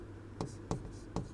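A pen scratches out a chemical structure on paper in three short, quiet strokes spaced apart, close and soft against a faint background hum.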